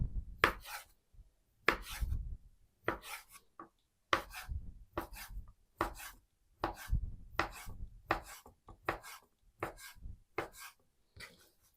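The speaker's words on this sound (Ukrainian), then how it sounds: "Язик нарізаємо соломкою." Boiled tongue is sliced into thin strips with a knife, a run of crisp close knocks on the cutting board in a steady, slightly uneven rhythm, quiet and with no talk.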